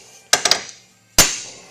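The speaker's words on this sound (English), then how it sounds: "I just put the hammer there in the back." Sharp metallic hammer taps close by, knocking out a wheel bearing on a 2003 Rubicon TRX500FA: a quick burst of three strikes, a pause, then one more hard hit.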